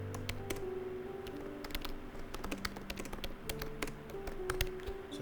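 Fast typing on a computer keyboard while writing HTML, with a flurry of light, irregular key clicks and taps, close up and quiet, with no voices.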